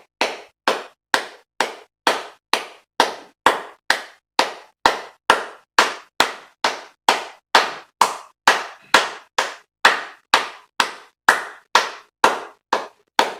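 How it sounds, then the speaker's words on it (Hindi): One person claps their hands as part of a breathing exercise for COPD and oxygen therapy: crisp, close, evenly spaced claps at about two per second, around thirty in a row, with nothing else heard. "मैं इस तरह से ताली बजाती हूँ।"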